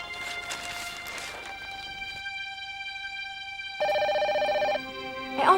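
A telephone rings indoors with steady electronic tones that stop and then resume in a brighter burst, with faint background sound in a domestic drama scene.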